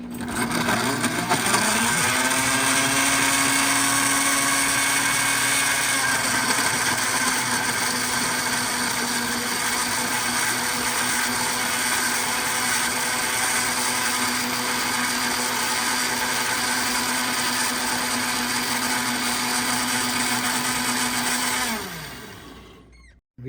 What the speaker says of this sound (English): Now we are adding little bit of water to the blender so that we can blend them all together.